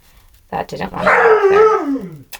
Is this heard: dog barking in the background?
yes